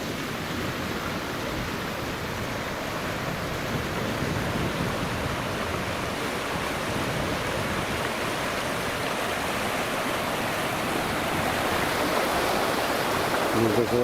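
Flowing stream water overflowing its banks in the countryside, a continuous dense rushing roar heard steadily throughout, close and fairly loud.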